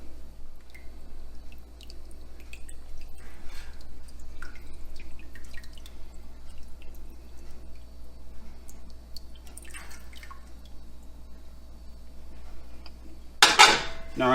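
Rennet diluted in water trickles into goat milk in a kitchen, with scattered soft drips and small liquid splashes, faint clinks of utensils, and a sharper clatter near the end.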